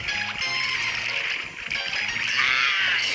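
Water splashes and sloshes steadily as someone swims through a drain, a continuous wet churning that swells louder toward the end, with faint tonal sounds underneath.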